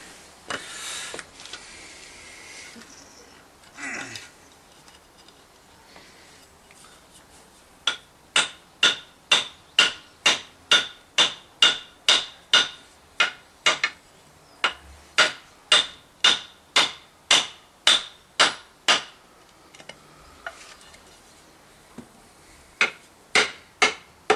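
A long run of sharp, evenly spaced hammer blows on the head of a froe's wooden handle, about twenty strikes in steady rhythm after a few scattered knocks, close and loud.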